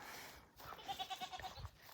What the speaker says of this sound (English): Look at this goat. These goats.